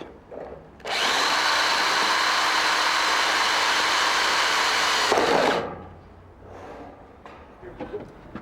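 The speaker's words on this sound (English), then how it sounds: "use the gutter hanger as a guide to pre-drill the hole" A power drill whines steadily for several seconds, close and loud, pre-drilling a hole through a rain gutter using a gutter hanger as a guide, then stops, followed by faint handling clatter.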